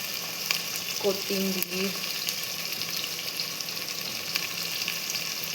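Tomatoes, ginger and garlic being sautéed in a pan, a steady close sizzle and crackle throughout, with a voice speaking briefly near the start.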